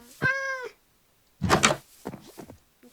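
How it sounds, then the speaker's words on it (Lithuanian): A cat meows in a Minecraft game, one clear harmonic mew followed by a pause, then a burst of noisy thumping and a few softer bumps like quick running steps. "Tai žinoma, ta katė bėga."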